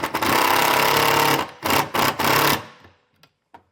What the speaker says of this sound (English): I then figured out exactly where I need to drill through to get our wires attached to our charge unit.